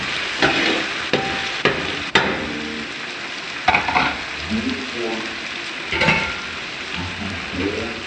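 Spices stirred into hot oil for a chole curry, with scraping spoon strokes and soft sizzling; a few sharp knocks of the spoon against the pan stand out over a steady frying hiss.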